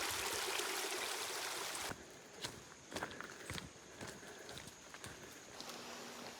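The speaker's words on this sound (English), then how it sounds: "some wonderful water is just a-flowing everywhere" Water flows in a stream along a trail at dusk, a soft wash heard under crunching footsteps on the path, with the rushing water louder at first, then fainter beneath the steps.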